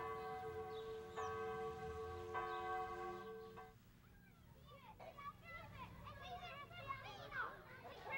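A bell rings at Pembroke Academy, sounding as a few resonant, sustained strokes with a steady hum, then fades as children's voices and chatter fill the schoolyard.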